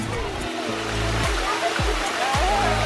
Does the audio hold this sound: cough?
no